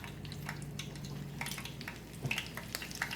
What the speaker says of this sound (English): Always be careful when you're frying.